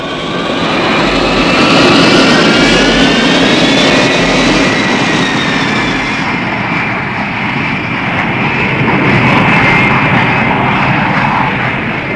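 An aircraft engine at full throttle roars loud and close as the plane climbs, a dense, steady drone with rising whine layered on top, continuous and without talk.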